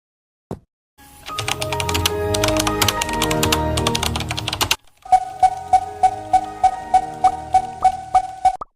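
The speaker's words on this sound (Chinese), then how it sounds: "电脑的声音，没错，肯定是臭小子打开电脑开始玩了" Computer keyboard typing inside the Mini World game: a burst of rapid, dense key clatter, then a slower run of about a dozen evenly spaced, crisp clicks, close and clear with no talking.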